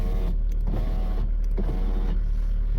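Electric window motor of a VW Golf 3 1.6 running in short bursts, a steady whirring drone that starts and stops several times while the glass moves, heard close up with no talk.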